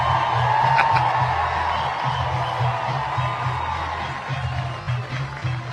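A softball stadium crowd at an Oklahoma vs Baylor game holds a steady, loud roar of cheering and whoops for several seconds, broad and distant-sounding, with a low hum beneath.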